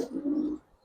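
A Giribaz pigeon from Rajshahi gives a single soft, throaty coo close by, a low rolling murmur lasting about half a second before fading into quiet.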